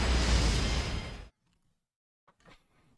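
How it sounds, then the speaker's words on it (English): A loud area-of-effect explosion from an Elden Ring DLC final boss fight, a dense roaring blast for over a second that cuts off abruptly, followed by faint scattered debris-like sounds. "AoE explosion on land."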